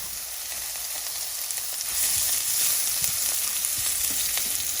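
Garlic, shallots and onions frying in oil in a pan for pad thai, a close, even sizzle that grows louder about halfway through, with light stirring clicks and scrapes and no voices.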